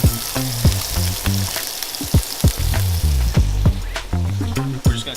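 Black tiger shrimp, marinated in lime juice, olive oil and garlic, sear in a hot pan with a loud, close, continuous sizzle broken by sharp pops and crackles.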